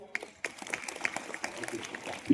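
Students in a secondary-school classroom clap together during a maths game, a light scattered round of applause with sharp individual claps, fairly faint and close.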